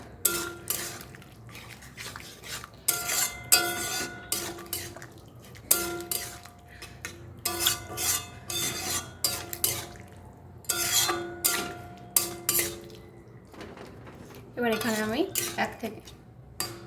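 A spoon stirs fried egg into a ridge gourd and potato curry in a pan, making repeated close metallic clinks and scrapes in an uneven rhythm, with a faint tonal sound in the background.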